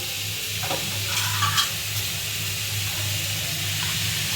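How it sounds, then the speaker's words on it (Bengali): Cashew paste and a little water are stirred in a pan for a paneer dish, with a soft simmering sizzle, a low steady hum underneath and a few light spoon scrapes near the middle. "এখন এটার মধ্যে দিচ্ছি কাজু বাটা, অল্প জল দিয়ে দিই"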